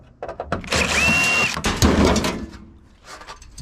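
A power tool backs screws out of an old clothes dryer being scrapped, with loud close whirring bursts and a rising whine, rattles and clanks of loose metal, then a quieter tail.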